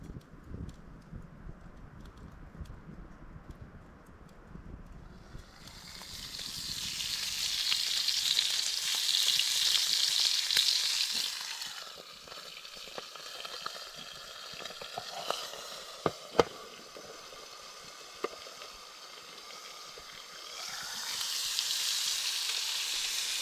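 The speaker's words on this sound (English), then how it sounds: "We'll get a good bed of embers in there, and then we'll get some steak cooked" Steak and tomatoes fry over a campfire's ember bed in the woods, a loud close sizzle swelling and easing in waves, with occasional crackles and pops, no voices.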